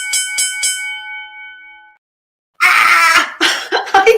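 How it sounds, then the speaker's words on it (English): A handbell rung three times in quick succession during a live tarot reading, its bright tone ringing out and fading into silence, followed by loud coughing and throat clearing. "I got the bell."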